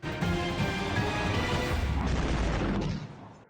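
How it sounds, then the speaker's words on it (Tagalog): A single massive blast tears through the B-1 Bridge in West Tehran, a loud crashing roar with debris rumble that sustains for about three seconds before cutting off. "Dumagundong ang pagsabog sa West Tehran sa Iran nitong Huwebes Santo."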